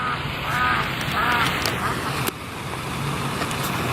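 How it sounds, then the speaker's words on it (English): Ducks quacking near a splashing outdoor fountain, a few short calls over a steady wash of water and faint traffic, with one sharp click partway through. "We have a fountain in the background and some ducks."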